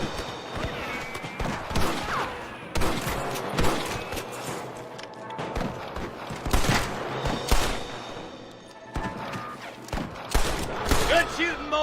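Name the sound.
gunfire from the video game Red Dead Redemption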